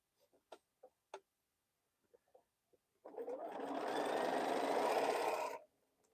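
A sewing machine stitches a quilt block piece in one steady, close burst of rapid whirring lasting a few seconds, preceded by scattered small clicks and handling taps.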